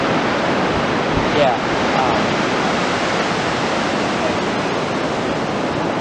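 Ocean waves make a steady, broad wash of surf noise close by, with a single brief spoken word near the start.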